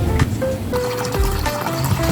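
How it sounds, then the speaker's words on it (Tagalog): Water pours steadily into a metal pot, a continuous trickling splash with a rising pitch as it fills. "kukunin ko na yung kaldero upang lagyan ng tubig"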